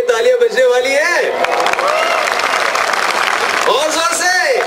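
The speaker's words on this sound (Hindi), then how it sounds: "मुझे लगा दिल खोल के तालियां बजने वाली है।" At a school world record event, an audience applauds in a large hall, a swelling burst of clapping behind someone speaking loudly through a microphone.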